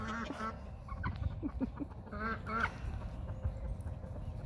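Low, throaty turkey grunts and clucks sound close by in short irregular bursts, with soft honking calls over a rumbling background.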